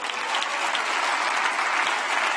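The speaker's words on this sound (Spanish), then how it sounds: "Dale un aplauso al rey." A church congregation applauds steadily for a couple of seconds, dense clapping from a sizable crowd without pauses.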